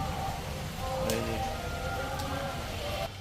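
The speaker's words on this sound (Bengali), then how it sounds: "বৃষ্টি পড়েই যাচ্ছে বৃষ্টি পড়েই যাচ্ছে সমানে" Steady rain falls outdoors, giving a continuous, even hiss of drops that stays at the same level throughout.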